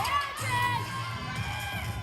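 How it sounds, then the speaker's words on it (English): Teammates cheer from the corners during a women's college gymnastics meet floor routine, a loud burst of excited shouts and whoops from a group of young women echoing in an arena. "I love seeing the teammates in the corners cheer on."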